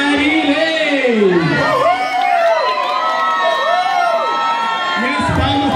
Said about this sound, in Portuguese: Minhas palmas para Marilei aí